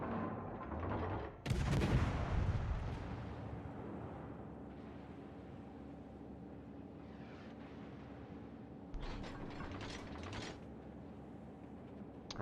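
Naval guns fire at an AI-controlled destroyer in World of Warships: a loud, booming broadband salvo near the start, then a steady engine and sea rumble, with a second, softer burst of shots later on.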